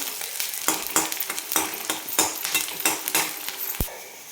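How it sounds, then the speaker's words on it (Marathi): Onion fries in a pan over high flame with a lively sizzle, cut by rapid, repeated spatula scrapes and clinks as it is stirred, ending in one sharp knock. "तर आपण तळून घेऊ हा कांदा"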